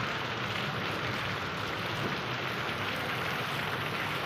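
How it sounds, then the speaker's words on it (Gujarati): Heavy rain pours down steadily, a dense, constant hiss of drops with no voices, loud and close throughout. "વરસાદ ફૂલ ચાલુ થઈ ગયો છે"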